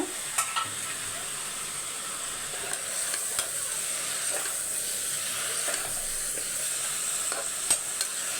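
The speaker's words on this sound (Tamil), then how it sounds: "சாதம் பொங்கி வருது" Rice boiling over in a pot on a low simmer gives off a steady, close hiss of bubbling and frothing, with a few soft clicks and knocks scattered through it.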